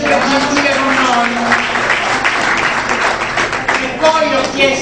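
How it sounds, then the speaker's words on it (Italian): Applause from the audience at an association gathering honouring a helpful volunteer, dense clapping with voices mixed in throughout, close and fairly loud. "facciamo un applauso a Romeo che è sempre gentile con noi."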